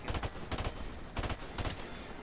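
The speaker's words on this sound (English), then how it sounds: "It's a 3-round burst." An M16 fires in 3-round bursts in Call of Duty Modern Warfare Remastered, four quick sharp clusters of shots spaced about half a second apart, loud and alone.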